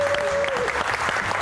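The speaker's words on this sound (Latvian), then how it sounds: "Aplausi!" Studio audience applauding on a Latvian TV3 shopping game show, steady loud clapping filling the whole moment with a brief held tone at the start.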